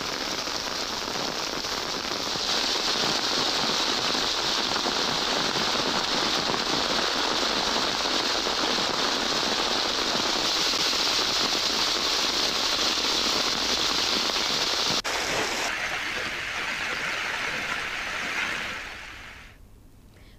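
Heavy rain pours down steadily in Puttaparthi, a dense hiss that holds for most of the clip and then eases off near the end.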